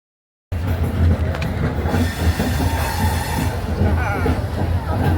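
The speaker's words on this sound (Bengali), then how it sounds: "ট্রেন বেনারস স্টেশনে ঢুকে গেছে।" A late-running night train on the Kolkata–Haridwar route rolls into Varanasi (Benaras) station with a loud, steady rumble of wheels and carriages, and a faint squeal rising over the continuous din.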